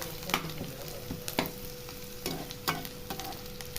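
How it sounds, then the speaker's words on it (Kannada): Garlic sizzles steadily in tempering oil in a pan while a spoon scrapes and clacks against it every second or so, close up and fairly quiet. "ಒಂದು ನಾಲ್ಕು ಬೆಳ್ಳುಳ್ಳಿ ಬಿಡಿಸ್ಬಿಟ್ಟು ಒಗ್ಗರಣೆಗೆ ಹಾಕಿದ್ದೀನಿ"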